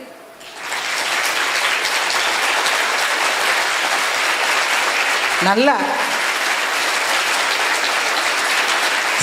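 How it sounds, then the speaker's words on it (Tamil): In a crowded hall, one side of the audience claps loudly and continuously in a dense, sustained burst of applause, while a voice briefly speaks over it. "இந்த சைடு மட்டும் கைத்தட்டு."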